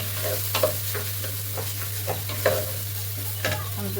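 Food stirred in a cooking pot on the stove with a spoon, giving repeated scraping strokes over a steady low hum and faint sizzling, close and clear, with no talking.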